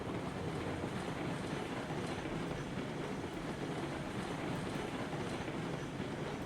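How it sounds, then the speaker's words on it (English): A locomotive in the RailRoads Online video game runs with a continuous low rumble and steady rolling clatter, an even mechanical drone with no voices over it. "Could not be happier with a new locomotive to come into the game."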